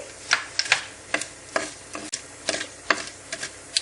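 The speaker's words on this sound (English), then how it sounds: "once the mustard seeds start to splutter, add in your cinnamon, cloves, and cardamom" Mustard seeds and spices spluttering in hot oil, with sharp irregular pops and crackles over a soft background hiss, close and moderately loud, with no voices.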